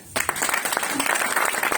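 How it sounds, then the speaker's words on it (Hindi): After a brief hush, an event audience breaks into applause, lively clapping from many hands that stays full and close to the end. "तालियां"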